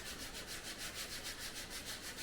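Steady rhythmic sanding strokes rub across heavy fiberglass filler on the cracked dashboard of a Chevy box car, a close, continuous gritty scrape repeating about four to five times per second with no talking.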